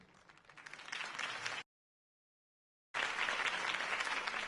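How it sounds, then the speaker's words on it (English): Crowd applause following Harvey Dent's campaign speech in a Batman video game: dense, steady clapping from many hands, broken by a sudden silent gap before resuming just as full. "If only Mr. Wayne, my campaign's largest backer, could have heard that applause"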